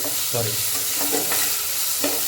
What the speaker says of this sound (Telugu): సో చూస్తున్నారు కదా ఎలా ఫ్రై చేసుకుంటాను